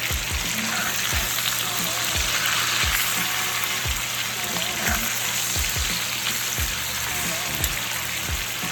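Chicken fries in a pan with a dense, continuous sizzle and crackle throughout, punctuated by regular low thumps, close and fairly loud with no talk over it.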